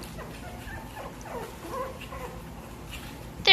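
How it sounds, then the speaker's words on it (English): A mother dog with her puppies gives off soft, scattered whimpers and small squeaky yips, faint and close against a quiet background. A slightly louder burst comes at the very end. "This is a dog."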